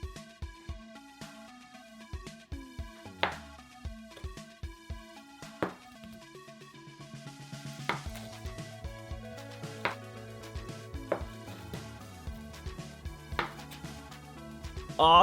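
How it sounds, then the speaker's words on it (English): A knife slicing homemade mini fruit gummies on a board, with many soft, quick taps and cuts in an irregular rhythm, close and quiet, with no talking. "now just sit back and relax while I do a little gummy slicing show"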